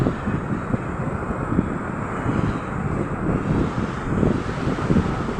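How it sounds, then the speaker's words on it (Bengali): Steady wind gusts roar across the microphone, with a broad rushing wash of sea waves breaking on Puri beach in Odisha underneath, continuous throughout. "হাওয়া আসছে আবার জলের ঢেউও আসছে"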